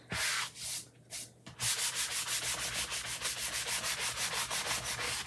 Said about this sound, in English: if you do have a sander block or sanding paper, I do notice a difference when I do it.